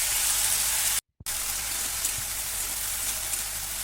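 Ripe Malabar spinach seeds (pui michuri) fry in oil over a medium-low gas flame, giving a steady, loud, close sizzle that briefly cuts out before resuming.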